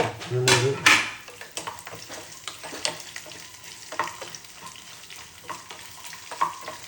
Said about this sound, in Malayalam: നമുക്ക് നെയ്യിൽ വറുത്ത തേങ്ങ അണ്ടിപ്പരിപ്പ് മുന്തിരി